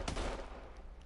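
A single heavy sniper rifle shot in a first-person shooter booms sharply and close, then decays with a short rumbling tail.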